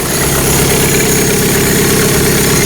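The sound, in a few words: pickup truck engine idling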